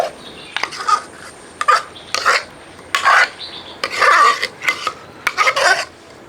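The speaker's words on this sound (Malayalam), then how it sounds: "നമ്മൾ ഇതുപോലൊരു പാത്രത്തിലോട്ട് പരിപ്പ് അങ്ങ് മാറ്റുകയാണ്" Mashed dal scraped from a cooker into a pot with a metal ladle, giving a series of short, loud rasping scrapes in irregular bursts with quiet gaps between them.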